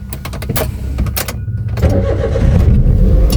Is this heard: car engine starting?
yes